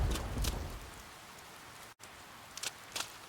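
Steady rain falling in the video game Persona 4 Golden, a soft continuous hiss with a few brief patters and a short dropout midway, faint and with no talk.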